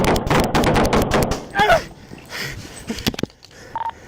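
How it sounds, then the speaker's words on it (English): A rapid burst of gunfire during a police confrontation, many sharp shots in quick succession up front, then scattered bangs, voices shouting and a radio-like tone, all close and loud. "Shots fired!"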